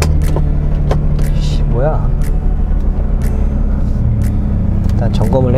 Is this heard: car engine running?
yes